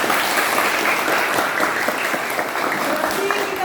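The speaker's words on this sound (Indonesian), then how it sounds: "tepuk tangan" Sustained applause from an audience at a school or church-style gathering, steady dense clapping filling the whole stretch at even loudness, with faint voices mixed in.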